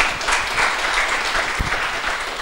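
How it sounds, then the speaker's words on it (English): Audience applause at a JavaScript meetup in Zagreb, a steady wash of many hands clapping that holds evenly throughout the short burst with no voices over it. "One more round of applause for him,"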